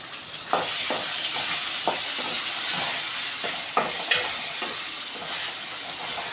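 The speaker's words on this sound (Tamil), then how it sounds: "அதையும் மொத்தமாக நல்லா வதக்கி விட்டுக்கோங்க" Chopped tomatoes sizzle and hiss steadily in a hot pan for chicken curry, with repeated scraping strokes of a stirring spoon across the pan, up close and without talk.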